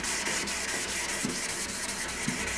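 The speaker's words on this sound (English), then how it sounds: "the scraper right down flat on the stone, back and forth" A steel card scraper rubs flat against a sharpening stone in a steady back-and-forth, a continuous gritty scrape with a few faint knocks, close and alone.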